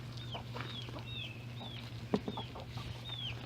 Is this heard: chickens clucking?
yes